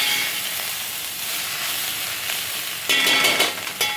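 Soya chunks and other ingredients for meal-maker pulao fry in a pot, giving a continuous close sizzle and hiss with no talk, and brief louder crackling bursts near the end, likely from stirring or scraping.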